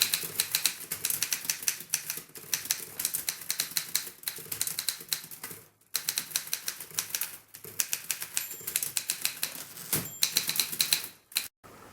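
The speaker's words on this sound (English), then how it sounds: "it's a fairly nicely typing typewriter" An Underwood typewriter, a restored machine with replaced parts and an old paint job, types in steady rapid bursts of sharp key strikes, with two brief pauses between runs, close and clear with no talking.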